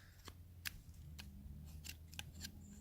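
A knife blade slicing through paper in a series of short, crisp cuts, about seven quick swishes at uneven intervals over a low steady background hum, close and fairly quiet.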